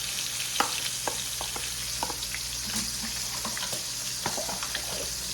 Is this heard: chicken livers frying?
yes